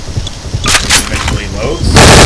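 Bursts of M4 CMAG automatic rifle fire in the video game Garry's Mod, loud and close, repeating in short rapid volleys over about two seconds.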